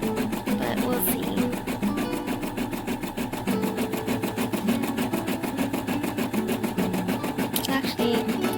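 An embroidery machine stitches an in-the-hoop snap tab keychain, a steady fast mechanical chatter with even repeating needle strokes, close and continuous throughout.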